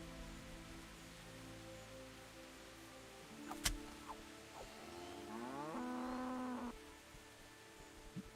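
A cow lows in Kingdom Come: Deliverance, one drawn-out moo rising and holding, fairly close, over soft rain and insect ambience with a sharp thud just before it.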